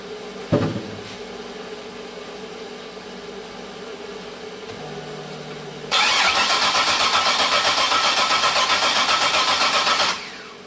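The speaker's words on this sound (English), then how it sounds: "We're in clear flood mode, so let's go crank it and see what happens." A car engine cranks without starting during a relative compression test in clear flood mode: a loud, steady, rhythmic churning from the starter lasts about four seconds after a quiet lead-in with a single click.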